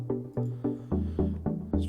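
Synthesizer chords produced in Bitwig, a series of about seven evenly spaced chord stabs with a throbbing, pulsing character, each attack clear and upfront with nothing else alongside.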